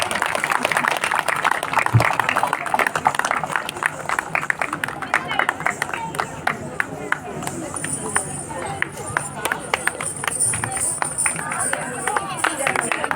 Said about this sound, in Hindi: आप सब भूल गए एक बात, ताली बजाना है।